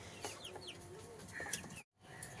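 Chickens clucking in a small coop set in a shaded area, faint scattered clucks and short calls over quiet background hiss, briefly cut to silence near the end.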